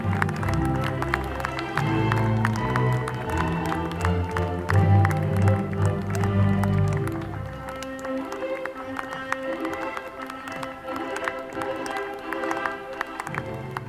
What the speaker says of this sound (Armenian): Բարձր ծափահարություններով դիմավորում ենք մեր այսօրվա ամենաերջանիկ զույգին